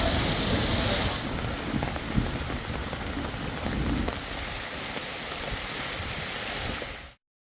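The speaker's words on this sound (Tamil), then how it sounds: "பலத்த காற்றுடன் கனமழை பெய்தது" Heavy rain driven by strong wind pours down without a break for several seconds, a loud dense hiss with deeper rumbles underneath, then cuts off suddenly.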